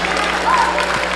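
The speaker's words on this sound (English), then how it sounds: "y'all give him a round of applause." A brief burst of audience applause in a middle school hall after a student speaks, steady and fairly loud over a low hum.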